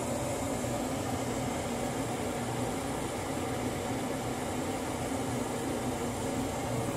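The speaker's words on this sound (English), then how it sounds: "you can hear the pressure switches clicked in right now" A steady broadband mechanical whoosh and hum from a Champion TG9S gas furnace inducer runs without a break, with no clear pressure switch clicks standing out.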